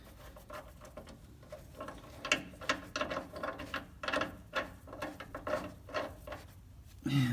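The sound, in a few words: ratchet tightening nuts on a truck 5th wheel rail kit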